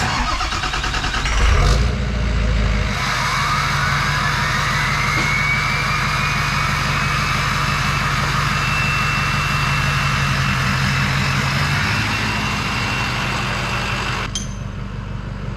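A 2004 Ford truck's 6.0 Power Stroke diesel cranks and fires after a brief whirr, then settles into a loud, steady clattering idle with a rising turbo whine before cutting off near the end.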